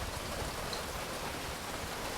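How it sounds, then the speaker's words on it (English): Rain falling outside in a garden, a steady, even hiss of drops with no breaks and no voices. "So today it's raining."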